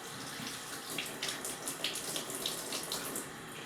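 Tap water runs steadily over makeup brushes being rinsed of soap in a sink, a continuous close hiss with small splashy fluctuations and no talking.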